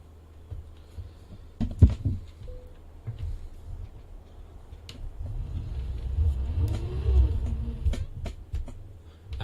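A truck engine in a driving video game rumbles at low volume, building from a quiet idle into a longer rising rev and acceleration, with a few sharp clicks along the way.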